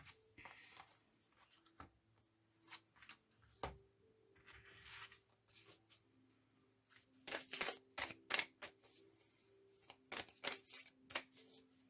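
Tarot cards are shuffled in a deck, with soft riffles and taps at first, then a run of louder, quicker flicking and slapping near the end, close by with no talk.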